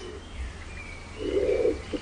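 Native Canary Islands pigeons give low soft cooing calls in a laurel rainforest, one brief coo followed by a longer, louder rolling coo, close and clear over faint background hiss.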